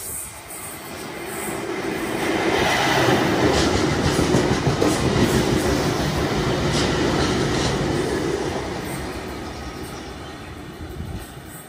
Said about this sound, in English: The next train to arrive on platform 3 goes to something a little different.